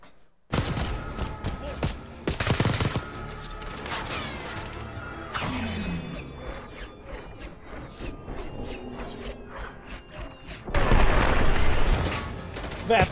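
A Call of Duty Black Ops 6 firefight carries sharp explosive bursts and rapid gunfire, with a loud grenade-like blast near the start and another heavy burst near the end. Clattering mechanical noises and shots fill the space between them.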